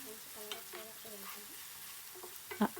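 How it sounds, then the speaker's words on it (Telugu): Sliced onions frying in a pan until golden for a raw banana masala curry, a faint steady sizzle with soft stirring scrapes and one sharper clink near the end. "ఆనియన్స్ బాగా గోల్డెన్ కలర్ వచ్చే వరకు వేయించుకుందాము"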